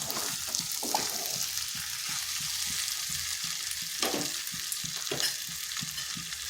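Potato and cauliflower curry frying and being stirred in a pan without water, a steady broadband sizzle with repeated scraping strokes of a spoon throughout, close and alone.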